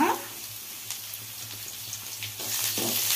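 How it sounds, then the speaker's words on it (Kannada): Capsicum frying with garlic in a hot pan, a steady sizzle throughout with occasional stirring scrapes, close and fairly loud. "ಫ್ರೈ ಮಾಡ್ಕೊಳ್ಳೋಣ"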